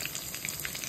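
Fish frying in hot oil on a gas flame, a steady close crackling sizzle with bright spitting pops scattered throughout, no voices.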